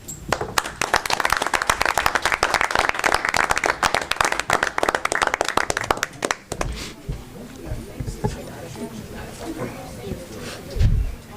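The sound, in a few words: audience applause at a school board meeting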